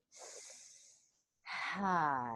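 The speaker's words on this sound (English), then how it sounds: "shift into in and out of the mouth breathing" Two audible breaths close to the mic: a soft airy inhale, a pause, then a longer voiced exhale with a hum-like tone.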